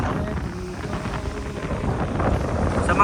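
Strong wind sweeps across a beachfront lot, buffeting the microphone with a steady low rumble and gusty swells that build toward the end, with no one talking.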